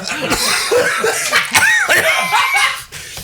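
A few rough coughs mixed with chuckling and breathy laughter, close and fairly loud, with brief vocal sounds between them.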